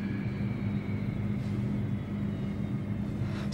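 A steady low engine drone with constant broadband rumble fills the space, loud and unbroken, with no voices.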